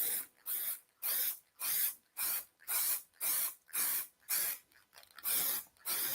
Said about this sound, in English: So we'll spray a coat of the satin to begin with.